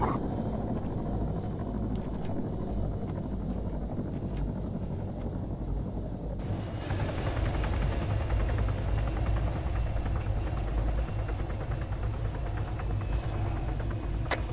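A Chinook helicopter in a military training video game gives a continuous low rotor drone and engine rumble that rises and thickens partway through, with no talk over it.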